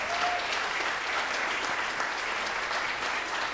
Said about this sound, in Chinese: 我们再一次用热烈掌声鼓励